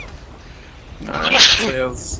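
A single sharp sneeze bursts out mid-sentence during voice chat on a pirate-ship voyage in Sea of Thieves, loud and close, with players talking around it.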